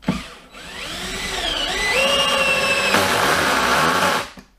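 A power drill drives a Goldscrew Plus 5x50 single-thread woodscrew into wood, the motor whining as it rises in pitch and strains under load for about four seconds before stopping abruptly, close and loud.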